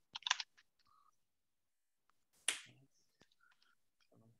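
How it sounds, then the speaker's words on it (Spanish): Computer keyboard keys give sparse, irregular clicks and taps, with a couple of sharper bursts, quiet and close, separated by near-silent pauses. "Estoy escribiendo el teclado."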